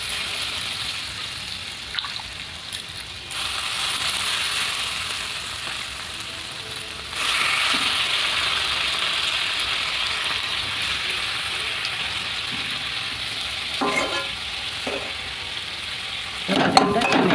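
Boiled potatoes fry in a pan for a stuffed pointed gourd snack, with a steady broad sizzle and occasional scraping stirs, louder after a few seconds and with sharper clinks near the end.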